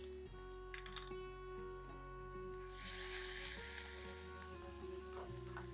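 A soft, steady sizzle of ginger garlic paste frying in hot ghee, growing briefly louder and hissier midway, with faint stirring sounds and no voices.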